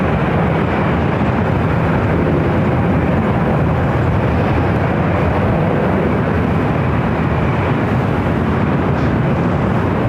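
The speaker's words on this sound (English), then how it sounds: "A380 Super, which came back to LAX" An Airbus A380 airliner at LAX airport gives off a steady, loud, broadband jet engine roar that holds without a break, close by and with no talk over it.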